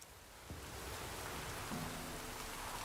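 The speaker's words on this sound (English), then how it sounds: "And it is 3 a.m. in the rain." Steady rain falls in The Witcher 3 video game, a dense, even hiss with a faint low rumble and no talking.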